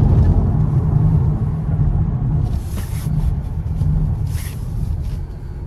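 A 2021 Kia Stinger GT AWD with a six-cylinder turbo engine driving, heard from inside as a steady loud low engine and road rumble that swells and eases slightly.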